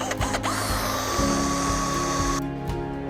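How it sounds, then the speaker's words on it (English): A power drill with a 6mm bit bores out a tube end, whining at a steady high pitch that shifts as the bit bites, with close mechanical grinding and short bursts. "First of all, you'll need your drill and your 6mm drill bit"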